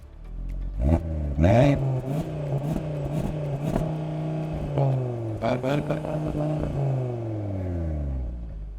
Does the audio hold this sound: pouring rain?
no